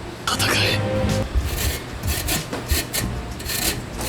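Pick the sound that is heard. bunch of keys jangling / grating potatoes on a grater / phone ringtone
grating potatoes on a grater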